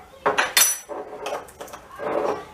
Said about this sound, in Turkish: Ve bunu bir güzel karıştırıyoruz.